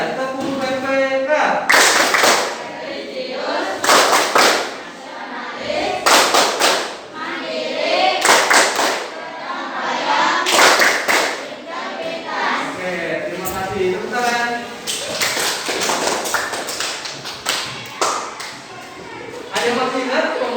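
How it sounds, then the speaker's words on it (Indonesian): Standing seventh-grade students at SMPN 1 perform the tepuk PPK clapping chant in a classroom, sharp unison claps and thumps landing in rhythmic bursts between sung and spoken chant lines, repeated over about twenty seconds. "Sekarang kita tepuk PPK dulu ya."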